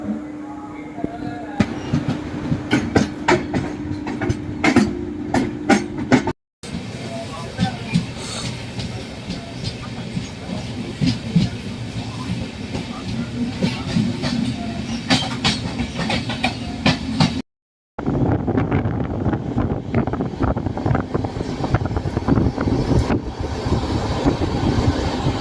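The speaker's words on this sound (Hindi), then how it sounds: "तो चलिए डिपार्चर हो रहा है ट्रेन" A Grand Trunk Express train pulls out and rolls along the rails with steady clickety-clack and a constant low rumble, loud and close for about 25 seconds, broken by two brief dropouts.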